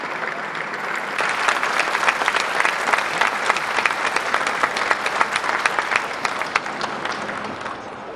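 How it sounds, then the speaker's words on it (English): Sustained, loud applause from a large audience at a charity gala dinner, crisp individual claps forming a steady wash that builds quickly and carries on for several seconds with no talk over it. "And we want a big round of applause,"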